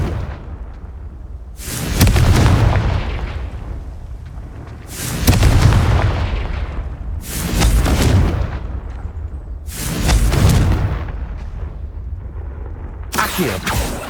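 Confringo fire spell blasts going off in the Hogwarts Legacy video game, a series of four or five loud booming explosions spaced a few seconds apart, each swelling then trailing off over continuous game background noise.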